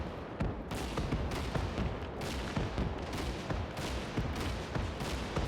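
Super tank guns in the Gates of Hell war game fire without pause, a dense, loud barrage of heavy booming shots and cracks in rapid, uneven succession.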